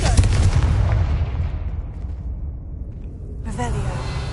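A Confringo fire spell blast in Hogwarts Legacy erupts loudly at the start, its roaring burst decaying over a few seconds into a low rumble before a second surge and a voice near the end.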